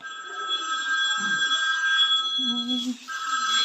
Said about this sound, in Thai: โทรศัพท์เพลอดังแท้